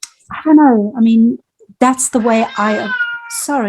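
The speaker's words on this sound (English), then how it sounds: "that's my cat in the background" A pet cat meows repeatedly in the background, several drawn-out, rising and falling cries close to the microphone, interleaved with a person talking in short bursts.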